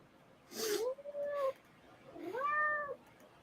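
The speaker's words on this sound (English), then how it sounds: "And there's this cat." A cat meows twice, up close: a short rising call and then a longer, drawn-out whining meow, separated by a brief pause over a quiet room.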